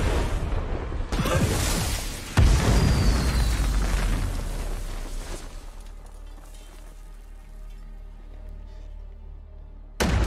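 A rocket explosion in a film bursts with a heavy boom, followed by a second deep blast and a long rumbling decay that fades toward quiet before a final abrupt hit.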